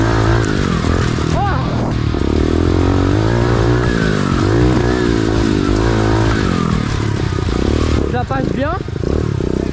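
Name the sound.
110cc pit bike engine revving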